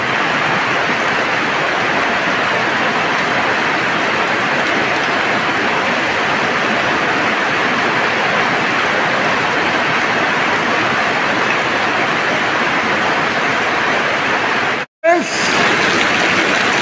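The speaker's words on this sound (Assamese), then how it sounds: "এয়া হ'ল ধাৰাসাৰ বৃষ্টি" A heavy downpour in Assam, a loud, unbroken roar of rain that holds steady for the whole stretch, cut off by a sudden brief drop near the end.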